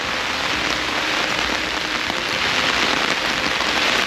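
Heavy rain drums on the fabric of an old tent, producing a dense, constant hiss of close raindrops that stays steady and loud with no voices.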